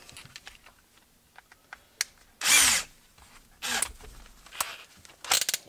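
A Metabo 12V PowerMaxx cordless drill drives specs and timber lock screws into timber in a few loud, short bursts of whirring. Quiet clicks and handling noise fill the gaps between the bursts.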